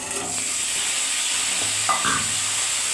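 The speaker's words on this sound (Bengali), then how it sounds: "এবার পেঁয়াজ, আলু আর পটল আমি একটু কষে দেবো।" Onion, potato and pointed gourd frying in a pan for a light prawn curry, a steady close sizzle with a brief stir partway through, no voices.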